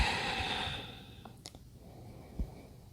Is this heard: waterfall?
no